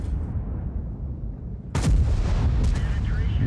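A tank cannon fires in World of Tanks, a single loud, sharp blast at about halfway that cuts through a steady low engine rumble, followed by lingering rumble and a couple of faint clanks.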